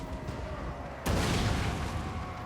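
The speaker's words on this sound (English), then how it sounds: "Big hit by the cannon" Steady game background hum in Total War: Warhammer II, then one sudden loud dwarf cannon boom that leaves a dense rumbling wash trailing off to the end.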